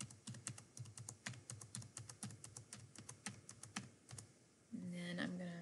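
A graphing calculator's keys pressed one after another to enter values, a quick run of close, light clicks at a steady typing rhythm, ending in a brief electronic tone.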